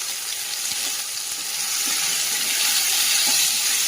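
Taro pieces and shrimp fry in a pan with a dense, steady sizzle and hiss that grows slightly louder toward the end, close and continuous with no voices.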